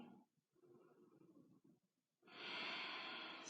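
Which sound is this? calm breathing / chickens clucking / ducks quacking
calm breathing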